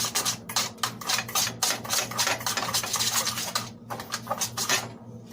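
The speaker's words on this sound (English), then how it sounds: "just take a handy-dandy little utensil. Stir it up a little bit." A utensil stirs a homemade seasoned salt spice mix in a bowl, giving quick repeated scraping and rubbing strokes in a steady rhythm, close and fairly clear, with a low steady hum underneath.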